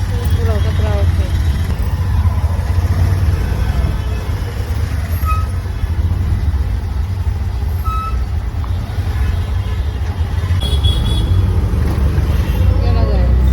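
Dense street traffic on a jammed road on a Saturday near a highway hums in a constant low rumble of idling and crawling vehicles, with scattered beeps and a faint horn mixed in and talk over it.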